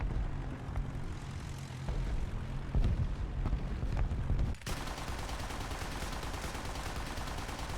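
A bomber in War Thunder fires on a zeppelin: a steady propeller-engine drone runs throughout, then shifts abruptly into a denser, harsher wash of rapid gunfire that sustains to the end.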